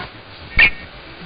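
CBS Radio alert chirp tone: a single brief high chirp popping out of quiet broadcast hiss, sharp and close, with nothing else around it.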